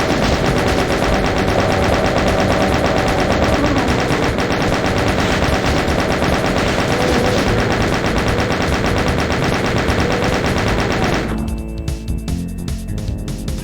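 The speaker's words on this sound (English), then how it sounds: "These minigunners get me so often." Minigunner enemies in the video game DOOM Eviternity fire sustained automatic bursts that form a loud, continuous hail of gunfire for many seconds, ending in a few scattered shots near the end.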